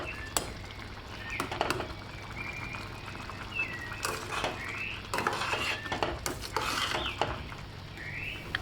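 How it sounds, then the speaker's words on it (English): A cooking spoon scrapes and clinks against a pot while salt mackerel seasoned rice is gently stirred, producing scattered metallic taps and soft scraping over a low background hum. "Use a cooking spoon. Stir in it gently."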